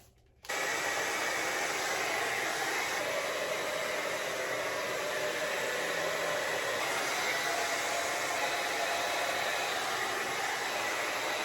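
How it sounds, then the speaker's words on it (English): A hair dryer fitted with a diffuser blows on wavy hair, switching on after a brief pause and then running as a loud, steady whooshing roar without any talk. "I'm gonna come back and diffuse it and get it relatively dry"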